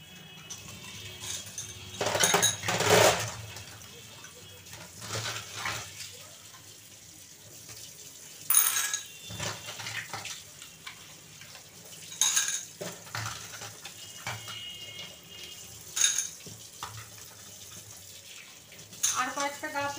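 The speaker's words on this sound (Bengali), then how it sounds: "পাথরগুলো এখন ধুয়ে নেব।" Decorative stones being rinsed with water early on a winter morning, with splashing bursts of running water and clatter that rise and fall in several separate surges over a low background.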